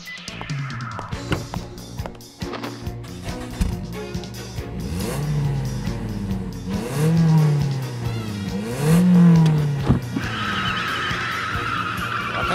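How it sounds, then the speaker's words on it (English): A custom Toyota Auris car engine revs and accelerates loudly with rising and falling pitch sweeps, tyre noise and a skid-like squeal, heard alone without talk. "Char, on the other hand, takes the car to work, her Toyota Auris Char Custom, which is 3 times faster than the standard Auris."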